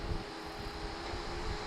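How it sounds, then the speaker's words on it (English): A camera drone flies overhead near a beach. Its steady whirring rotor drone is mixed with wind rush and holds constant and fairly close for the whole short stretch. "got the drone up, getting some good footage"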